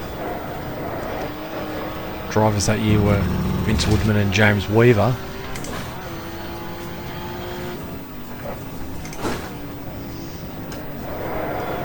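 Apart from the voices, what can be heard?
BMW touring race car racing at Oulton Park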